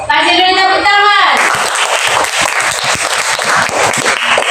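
A classroom of pupils claps in unison on a teacher's prompt, a dense burst of loud applause that starts abruptly after a brief voice and continues steadily to the end.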